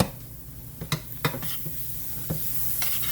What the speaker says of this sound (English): I want those onions cooked, and then they essentially kind of brown a little bit.